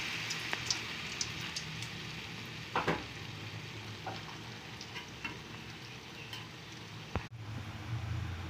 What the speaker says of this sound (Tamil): இன்னும் ஒரு 2-3 நிமிஷம் பொரிய விடுவோம்